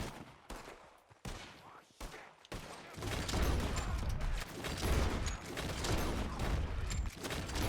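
Gunfire from a forest shootout in the Red Dead Redemption 2 video game: a few sharp isolated shots first, then dense, continuous rapid fire with booming rounds that stays loud and steady to the end.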